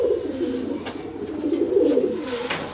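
Pair of domestic deshi pigeons cooing close by in soft, repeated throaty rolls, a low bubbling coo rising and falling across a few seconds with no talk over it.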